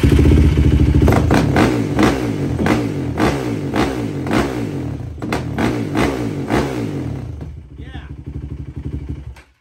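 A tuned engine revved hard in repeated sharp bursts, showing quick throttle response, loud and close with a clattering edge, before it settles to a quieter idle near the end.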